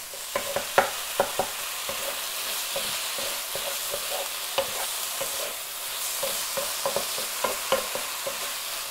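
Ground meat frying in a wok while a utensil breaks it into pieces: steady sizzle with repeated sharp scraping clacks of the spatula against the pan, close and fairly loud, with no talking.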